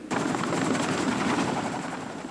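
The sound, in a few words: military helicopter flying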